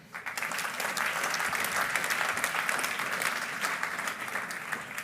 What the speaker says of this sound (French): toujours sous vos applaudissements